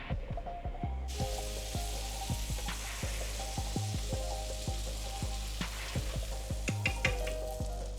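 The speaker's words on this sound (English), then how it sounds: "I'm gonna go ahead and put some of this butter on the griddle so it can warm up" Butter heating on a griddle gives a steady sizzle lasting throughout, with low thumping knocks and clatter from kitchen handling repeated over it.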